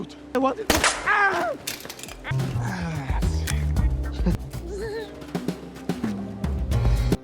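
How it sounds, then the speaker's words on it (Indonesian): Sharp gunshots crack out in bursts amid dramatic film sound, with shouting voices and music layered throughout. "tim lebih dulu melepaskan tembakan"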